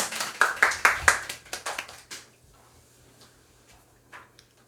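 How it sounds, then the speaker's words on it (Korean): A church group claps in a quick run of about a dozen sharp, fairly close claps that fade out after two seconds, followed by near silence with a few faint scattered taps. "박수 한번 주세요"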